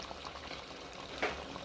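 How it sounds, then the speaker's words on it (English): Soft, low bubbling of a chicken curry simmering on low heat with added water, with a brief stir or clink partway through; quiet and steady, no voices. "I will put in some water and let it simmer on low heat"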